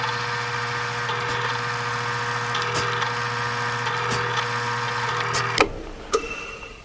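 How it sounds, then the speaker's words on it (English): A steady mechanical whine of a drill motor boring into wood in a vertical drilling jig runs continuously, with slight pitch shifts, then cuts off near the end followed by a couple of sharp clicks. "I will start drilling the depth of this."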